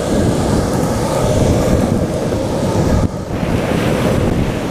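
Strong wind blows outdoors by the sea, roaring steadily and loudly into the microphone alongside surf, with a brief dip partway through and no talking.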